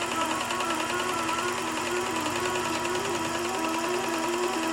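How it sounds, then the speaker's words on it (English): A quilting sewing machine stitches in the ditch along a quilt with a steady, continuous mechanical whir and fast stitching rattle, moderately quiet and uninterrupted. "it's stitching in the ditch"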